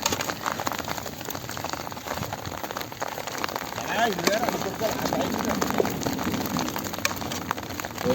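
Steady rain falls through an outdoor night-time chicken cook, a dense constant patter over the whole stretch with people talking beneath it.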